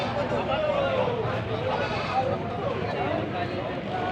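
Many goats bleat together in a noisy chorus inside a goat building, overlapping wavering calls close by, with people talking in the background.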